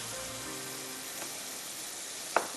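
Chopped onions frying in a pan for a masala, a steady close hiss of sizzling oil throughout with a single small clink near the end and no talking.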